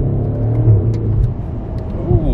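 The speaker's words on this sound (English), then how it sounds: "You can hear some burbles and crackles on the shifts" A BMW 750i M Sport sedan engine pulling hard from inside the cabin, a deep steady drone rising and swelling in a brief surge of acceleration, loud and close.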